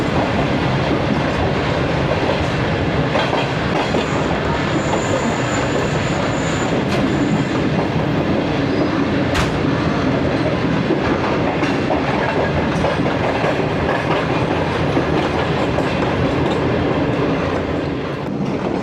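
A premium express train from Lahore to Karachi runs on the railway track near Landhi Junction, a loud, continuous rumble and rattle of wheels and cars with a brief high squeal, heard close and alone.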